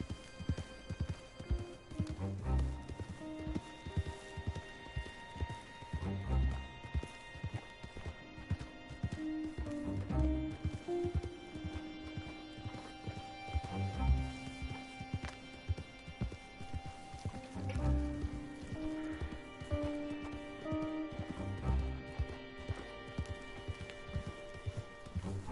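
Horse hooves clip-clopping in the open world of Red Dead Redemption 2, a steady rhythmic trot of repeated hoofbeats with occasional whinnies, close and continuous over a layer of game music and ambience.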